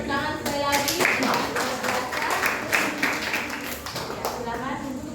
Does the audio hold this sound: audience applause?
yes